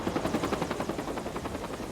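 A firefighting helicopter used on a wildfire thumps overhead, its rotor beating in a fast, even pulse that holds steady and fairly loud throughout.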